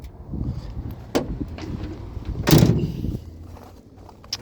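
Tailgate of a 2023 Ford F-350 pickup with a dampened tailgate, released by key fob on a dealer lot: a short mechanical clunk and a louder thud midway, with faint rattles around it.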